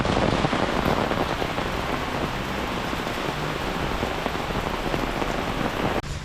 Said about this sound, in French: il y a eu une averse d'un coup